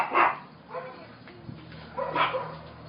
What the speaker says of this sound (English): besides the barking dogs